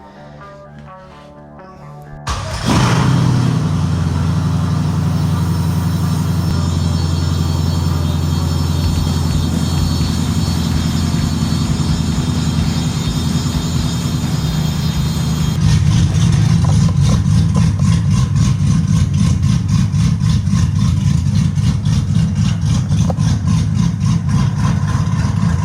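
An LS V8 swapped into a Chevy S10 cranks over and fires up, then settles into a loud, steady, lumpy idle close by, stepping up slightly in level partway through.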